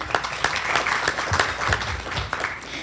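Audience members at a minimum wage forum clap steadily for a presenter, a dense patter of claps from a modest crowd nearby with no voices over it.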